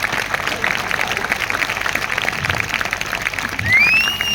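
Audience clapping at a church convention gathering rolls on steadily, a dense crowd patter at moderate distance with faint voices underneath.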